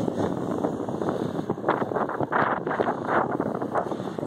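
Gusty wind buffets the microphone while riding a bike along the Broad Channel bike path, a rough, fluctuating roar that swells and dips continuously with no talk.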